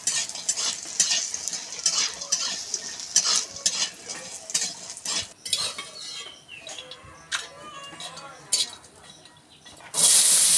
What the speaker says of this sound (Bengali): বড়িগুলো লাল লাল করে ভেজে নেওয়া হচ্ছে।